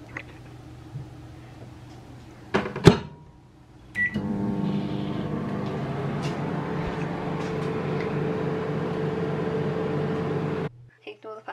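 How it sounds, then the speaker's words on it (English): A microwave oven hums steadily for several seconds while melting vegan butter for chocolate cupcakes, preceded by door clicks and a beep, then stops with a clunk at the end. "melt the butter in the microwave"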